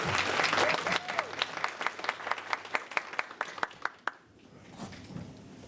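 A room of guests at a women in business awards event claps for an honoree, a dense burst of applause that settles into steady separate claps and stops abruptly, leaving quiet room tone.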